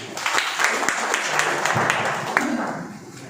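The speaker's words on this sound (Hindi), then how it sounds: "ये इनके लिए एक बार ताली चाहूँ" An audience at a business seminar claps on cue, a brief burst of mixed handclaps filling the room at moderate loudness with a faint hum underneath.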